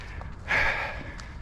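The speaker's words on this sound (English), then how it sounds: "all you can hear is me heavy breathing" Heavy, ragged breathing while walking, close to the microphone, with one louder rush of breath midway over faint outdoor background noise in Parkwood Springs.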